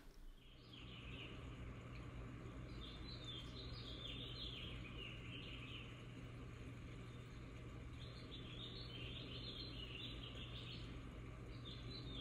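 Birds chirping and tweeting outdoors in spring, a steady stream of high, faint calls that carries on throughout over a soft, even background hum.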